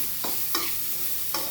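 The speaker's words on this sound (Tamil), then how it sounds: "அதை போட்டு சட்டியில் போட்டு இப்படி கறி வைக்கிறீங்க. வதக்கிறீங்களா?" Bitter gourd is sautéed in a pan. A constant close sizzle runs throughout, broken by three brief scraping stirs of a spoon against the pan.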